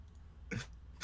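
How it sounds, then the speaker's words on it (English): Two short, harsh coughs burst out among a group of people, loud and close, one in the middle and another at the very end. "everybody's having a fucking cough attack"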